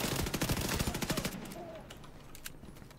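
Rapid automatic gunfire from The Division 2 video game: a dense burst of quick shots for over a second, then it cuts off, leaving faint scattered distant shots.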